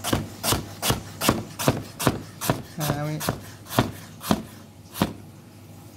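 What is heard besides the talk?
slicing potatoes thinly with a knife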